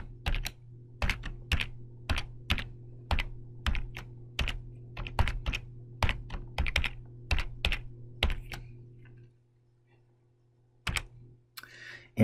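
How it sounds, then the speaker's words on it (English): Typing on a computer keyboard, a close run of distinct key clacks in an irregular rhythm over a low steady hum, stopping for a few seconds before a couple of final taps. "give me a second to type that"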